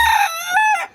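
A rooster crows once at close range, a loud, drawn-out cock-a-doodle-doo with a rising and falling tone, heard alone in a backyard poultry setting.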